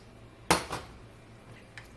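A spoon clanks against a cooking pot while pork adobo is stirred, with one sharp near knock followed by a softer scrape and a faint tap later, over a low kitchen background.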